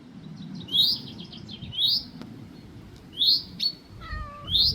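Small birds in a garden giving short, bright chirps in scattered bursts, a handful of calls spaced across a few seconds over a low background rumble.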